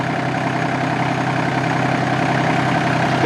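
A large TYM tractor engine idles steadily nearby, a loud, constant low rumble that runs without a break and has no talking over it.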